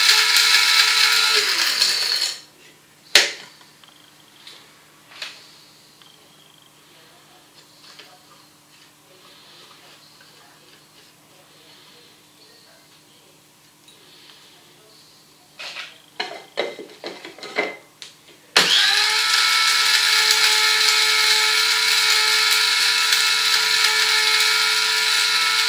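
A small electric mill grinds dried carrot into flour, running loud and shrill, stopping for a long quiet stretch of faint clicks and taps, then starting up again just as loud.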